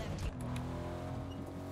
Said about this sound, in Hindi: यार हम गाड़ी में लेके आ रहे